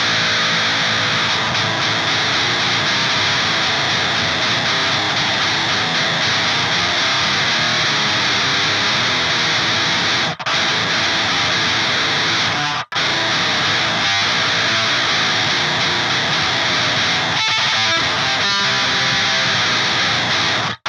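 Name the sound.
distorted electric guitar through distortion pedal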